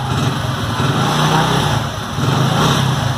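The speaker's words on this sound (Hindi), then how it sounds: "गाड़ी स्टार्ट हो गई" A petrol vehicle runs just after its fuel tap was replaced, a loud, close, rough engine noise holding steady for a few seconds with a brief dip midway, no talking.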